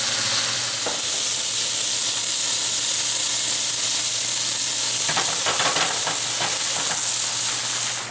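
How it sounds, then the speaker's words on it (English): T-bone steak frying in a hot pan, a loud continuous sizzle and hiss with crackling bursts of spattering fat, near and alone without talk. "how do you cook a T-bone steak in a pan?"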